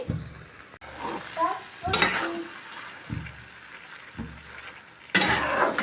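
Carrot halwa is stirred in a pan after a few minutes covered, giving soft sizzling and scraping strokes with occasional louder bursts of movement and light utensil clatter.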